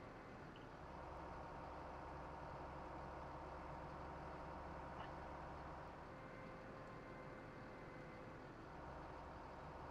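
A truck engine drones at a steady low rumble while driving in a farming simulator game on an Upper Mississippi River Valley map, constant and fairly quiet with no talk.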